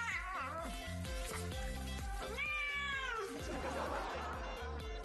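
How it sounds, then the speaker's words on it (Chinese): A cat meows and yowls repeatedly while being given a bath, its drawn-out, rising cries close and loud, with faint splashing water in the background. "猫咪是真的都不喜欢洗澡"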